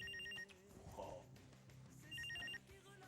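A telephone bell rings in two short bursts inside a home scene, with background music and room sound underneath; the ringing is moderately loud and clipped, breaking off between rings.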